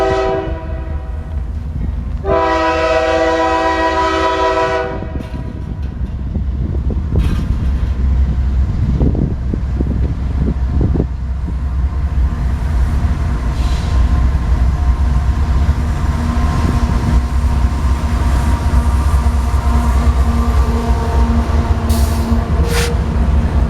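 A BNSF freight train rolls past, opening with a loud, sustained horn blast, then a long steady roar and clatter of wagons on rail with some wind, close and continuous.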